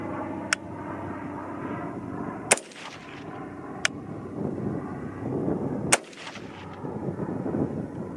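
Four sharp, loud reports from a Bear Creek Arsenal .223 varmint rifle firing hand loads with CFE 223 powder, spaced irregularly about one to two seconds apart, each followed by a brief echoing tail over faint outdoor background noise.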